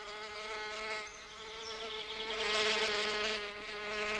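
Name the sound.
male bees flying in, buzzing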